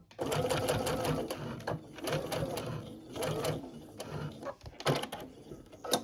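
A home sewing machine runs a zigzag stitch to secure a fabric loop, its motor buzzing in several close bursts of rapid needle chatter separated by short pauses.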